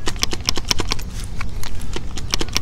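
Irregular metallic clattering and knocking of a loose motor rattling inside a car starter being shaken, close and fairly loud.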